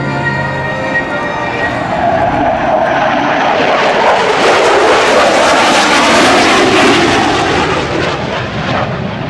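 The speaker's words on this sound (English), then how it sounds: "F-22 Raptor." An F-22 Raptor fighter jet flies a demonstration at the 2011 Tyndall AFB airshow, its loud, steady engine roar sweeping past continuously with a slow swell in the middle.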